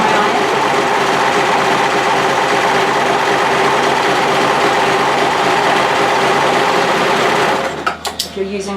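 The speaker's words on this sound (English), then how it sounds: "I'm going to use my overlocker to do my hems on my sleeves" An overlocker sewing machine hems a cardigan sleeve in a steady, loud, high-speed mechanical whir that runs continuously before stopping abruptly near the end, followed by a few clicks.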